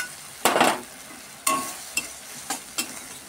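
Tomato, mustard paste and green chili get sautéed in a pan, with about five separate scraping stir strokes that come in short bursts against a quiet sizzle, close by.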